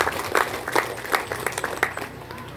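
Crowd applause for a village head at a village gathering in Namo Tualang, a dense wash of many hands clapping at close to moderate distance, steady for a few seconds.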